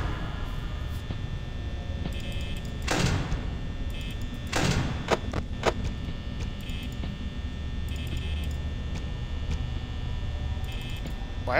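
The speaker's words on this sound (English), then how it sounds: "Why are they knocking on the door when the doors are closed?" Knocking against a closed office door in the Five Nights at Freddy's game, a few dull thuds in quick bursts over a constant electrical hum, with no talk.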